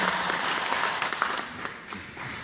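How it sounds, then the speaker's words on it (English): Audience applause at a stand-up comedy veterans charity show, a room full of people clapping in a dense, steady patter at moderate volume, with no voices over it. "You ever give him a round of applause?"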